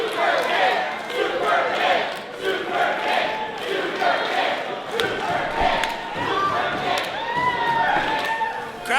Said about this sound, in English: Crowd's calling for the super kick here.